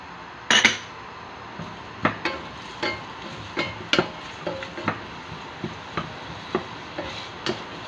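A metal utensil scrapes and clinks against a cooking pot as onion goes into a beef stew, with about a dozen sharp taps at an irregular, steady pace and no talking.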